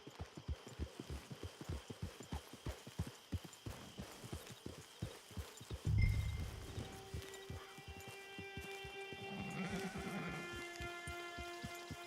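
In Red Dead Redemption 2, steady clip-clopping horse hooves trot along at an even rhythm, then a loud thump and a horse whinnies with tonal, musical sounds behind.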